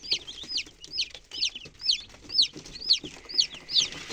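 Newly hatched chicks, a mix of grey ones from hens and a rooster, peeping in a regular run of about nine bright, rising-falling calls, close and fairly loud over a soft background murmur.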